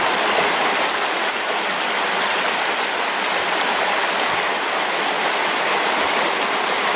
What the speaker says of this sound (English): Last water crossing of the trip.